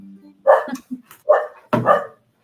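A dog barks three times in short, loud, close bursts spaced about half a second apart, with a small yip between them and quiet gaps around them.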